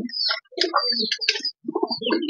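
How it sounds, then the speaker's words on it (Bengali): A female racing pigeon coos in short, close, repeated phrases mixed with soft chirps, with no one speaking. "এটা ফিমেল কবুতর।"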